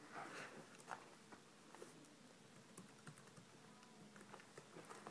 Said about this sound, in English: So now I'll just go ahead, type in my email address.